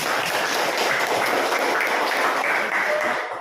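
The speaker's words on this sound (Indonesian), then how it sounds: "Tepuk tangan untuk kita semua." Schoolchildren in an Indonesian classroom clap together at the end of a lesson, a dense, fairly loud patter of hands that holds steady for a few seconds before easing off.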